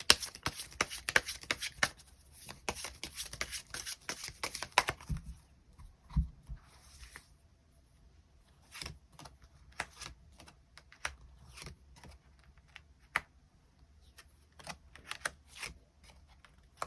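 Tarot cards being shuffled and drawn: a quick run of riffling card flicks at the start, then sparse soft slaps and clicks as single cards are laid down, close and quiet with no talk.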